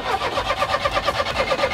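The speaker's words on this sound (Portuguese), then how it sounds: "Você tá afogando o carro" A Chevette's flooded engine cranks without catching, the starter churning in a fast, even rhythmic pulse that stays loud and close throughout.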